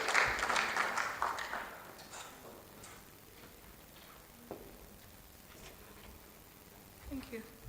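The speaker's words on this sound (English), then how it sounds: "A round of applause while she comes to the stage." Applause rises from a conference audience at a regional women, peace and security event as a speaker walks to the stage, loud at first then thinning out into scattered claps, shuffling and faint room noise.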